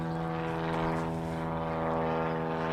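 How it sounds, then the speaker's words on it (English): A droning propeller airplane engine, steady and fairly loud, holding a constant tone throughout. "Damn plane."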